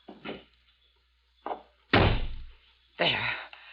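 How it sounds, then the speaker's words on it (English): A car door closes with a heavy slam amid a few other thuds and knocks in an old radio drama, sharp separate impacts with silence between, close and fairly loud. "stand aside while I release the brake and close the door."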